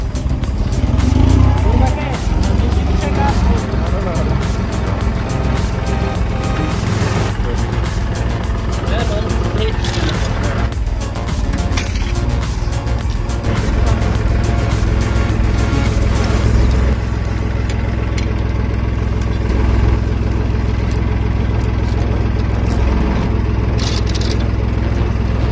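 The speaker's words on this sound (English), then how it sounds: "A 70 HP tractor just uprooted an 8-meter dead tree and is pulling it out of the garden." A 70 HP tractor strains to uproot and drag an 8-metre dead tree from a garden, a loud continuous engine rumble with scraping and clattering, voices talking over it.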